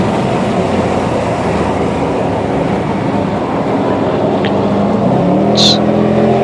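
Dodge Charger R/T with a mostly stock 5.7 Hemi V8 drones steadily at speed while racing alongside a Mustang GT350, a loud continuous engine roar with a brief higher whine near the end.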